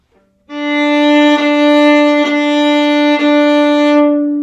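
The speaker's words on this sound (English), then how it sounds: "if smooth quarter notes sound like this," A viola plays one sustained pitch as four smooth, connected quarter notes, each joined to the next with only slight bow changes and no gaps.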